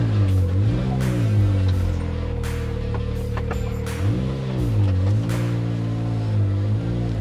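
Truck engine running in four-wheel drive low with Can-Am bikes loaded on the back, a steady mid-pitched drone that rises and falls in a few slow surges while crawling along, close and continuous with no talk.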